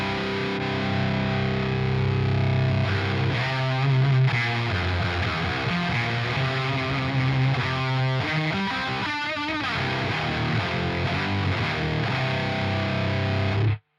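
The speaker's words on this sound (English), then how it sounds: "Sounds like a fuzz." Fuzz guitar tone from the Chaos pedal in the Neural DSP Archetype Misha Mansoor plugin, a thick, saturated and continuously distorted riff that plays loud and alone for the full length, with choppy, rhythmic chugs toward the middle.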